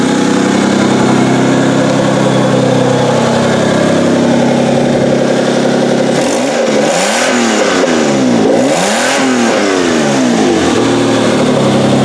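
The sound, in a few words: truck engine revving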